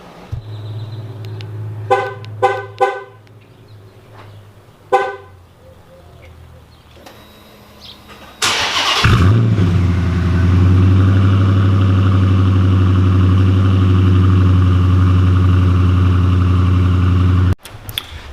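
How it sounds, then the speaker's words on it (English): A car engine cranks and catches with a sharp surge, then settles into a steady, close idle hum for about nine seconds, preceded by a few short horn-like toots and quiet handling noises. "Let's go turn on my car."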